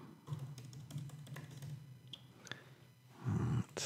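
Mac keyboard shortcuts are tried on a computer keyboard running SerenityOS, giving sparse, soft key taps close by over a low hum, with a louder thump near the end.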